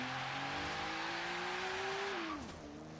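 A Maserati A6GCS/53 Pininfarina Berlinetta in Forza Horizon runs flat out on a highway, its engine holding a steady high whine that climbs slowly, then drops sharply near the end as it eases off.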